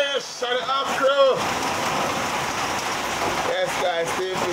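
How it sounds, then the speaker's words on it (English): Rain pours down steadily as a dense, continuous hiss, with a child's and adults' voices talking over it at the start and end. "Oh, and the rain is falling down."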